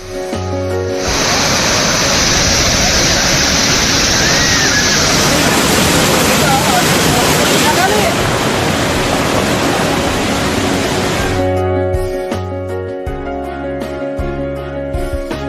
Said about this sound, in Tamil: சுரளி அருவியில் இன்று 3வது நாளாக தண்ணீர் ஆர்ப்பரித்து கொட்டுகிறது